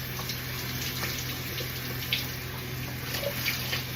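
Tap water runs steadily from a faucet to soak a towel until cool and wet, a constant close rushing stream with faint splashes and no speech.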